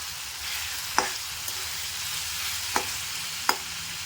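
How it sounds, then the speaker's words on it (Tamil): Coriander sautés in a pan with a soft, steady sizzle, punctuated by a few sharp spoon or spatula taps against the pan, with no talk. "நம்ம கொத்தமல்லி போட்டுக்கலாம் அதையும் வதக்குங்க"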